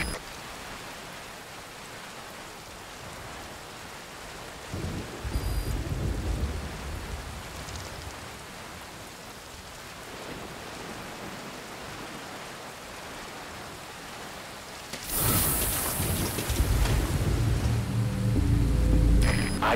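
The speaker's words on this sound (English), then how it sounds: "That rain just won't let up." Steady, heavy rain pours throughout in the video game Metal Gear Solid V: Ground Zeroes, with deep thunder rumbling twice; the second roll near the end is louder and longer.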